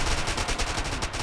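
Rapid pistol gunfire in a Space Engineers deathmatch crackles in a quick regular string of sharp shots over a brief moment, loud and close.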